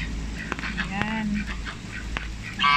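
Ducks being fed outdoors quack in short nasal calls beneath a steady background of noise, with a person talking and calling to them throughout.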